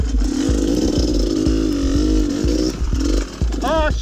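An enduro motorcycle's engine revs and bogs as the clutch slips over rocks, a close, loud, wavering drone broken by clanks and knocks from the bike hitting stone, with a voice briefly underneath.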